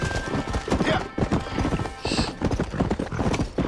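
Rhythmic clip-clop of horse hooves close by in the video game Red Dead Redemption, with a short whinny partway through; a voice speaks briefly over the hoofbeats.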